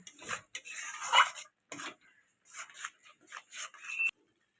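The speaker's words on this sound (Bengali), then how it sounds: "ভালো করে নাড়তে হবে নয়তো কড়াইতে লেগে যাবে" Cashew and melon seed paste being stirred in a kadai over low heat, with intermittent scraping and clinking of a spoon against the pan, several short bursts separated by brief pauses, close and fairly faint.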